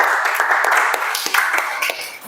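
A classroom of students claps together in a brief, fairly close round of applause with distinct individual claps audible, fading slightly toward the end.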